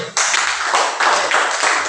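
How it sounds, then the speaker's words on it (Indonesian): A classroom of students applauding a classmate, dense steady clapping from many hands close by, lasting a couple of seconds with no talk. "Oke, tepuk tangan untuk Ayu."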